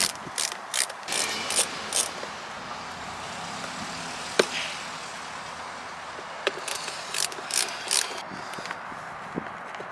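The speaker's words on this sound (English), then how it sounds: "remove the rest of the screws from the armrest" Armrest screws being backed out of a 1985 Jaguar XJ6 door with a ratcheting driver, giving crisp repeated clicking bursts close up, with short pauses between runs and a faint click or two in between.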